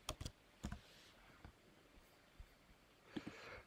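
Computer mouse clicks and keyboard typing at a desk, heard as quiet, close, irregular taps and double clicks spread out over a few seconds, with no voices.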